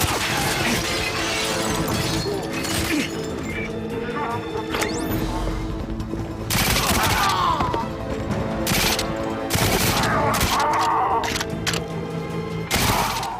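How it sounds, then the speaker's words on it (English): Machine pistol fire from the Wii version of GoldenEye 007, set in the Severnaya bunker, bursts out in several loud, sharp volleys amid clattering game sounds and shattering impacts, with no pauses in the busy mix. "Hooray for machine pistols."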